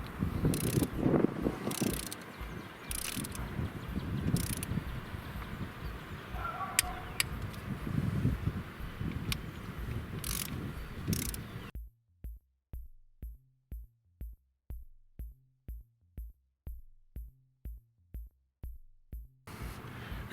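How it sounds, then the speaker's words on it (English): A small torque wrench tightens bolts on a Volvo S90 or XC90 PCV oil trap. It gives a faint rustle, then a run of about fifteen evenly spaced sharp ratchet clicks, close up and alone. "Because this is a tiny torque wrench, I had to find my small extensions here. So let's go ahead and torque these down."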